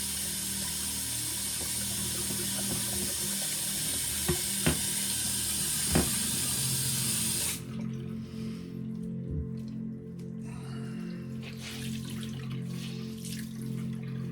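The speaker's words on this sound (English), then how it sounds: "Rinse out my washcloth in clean water." A washcloth rinsed in clean water in a Rubbermaid shave bowl on a back patio, with steady close splashing and dripping that gives way to quieter, scattered trickles partway through.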